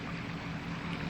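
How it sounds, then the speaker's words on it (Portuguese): Propellers of boats hauling timber toward sawmills, a continuous low droning churn steady throughout a short stretch, heard with no voices. "O som das hélices dos barcos que transportavam a madeira em direção às serrarias"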